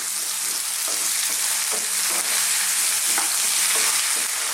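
Potatoes frying with cumin and mustard seeds hiss in a dense, loud, continuous sizzle, while a spoon stirs through them with soft, regular scraping taps close by and no talk.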